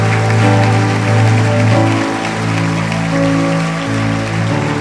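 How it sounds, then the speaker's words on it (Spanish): An audience at a church congress applauds, giving a dense, continuous patter of clapping that holds at steady loudness. Sustained tonal music plays beneath it. "dale un aplauso increíble al Señor"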